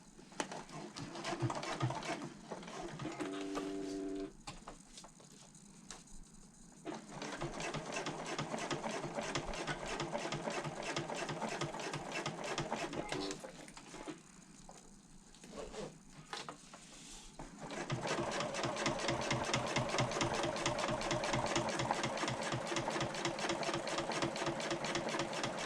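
A sewing machine stitches the interior pocket of a convertible bag, sounding as rapid, close mechanical chattering in several long runs broken by brief pauses, with a faster, steadier stretch at the end.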